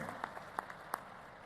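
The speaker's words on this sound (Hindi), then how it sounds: "ताली बजा के करो भाई" A political rally audience gives faint, distant applause, with a few sharper individual claps rising out of a low, steady wash over about a second and a half.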